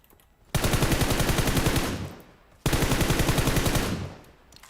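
Two long automatic-weapon bursts in PUBG Mobile, each a rapid, loud, close string of shots lasting about a second and a half, with a short pause between them.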